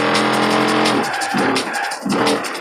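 A Dodge Viper in the racing video game Forza Horizon 4 roars loudly with a high-revving engine, then tires squeal and skid through a turn as the engine note rises and falls.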